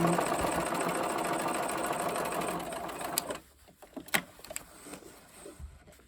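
A sewing machine runs a steady, rapid stitch along the seam of a bucket hat for about three seconds, then stops, followed by quieter fabric handling and clicks.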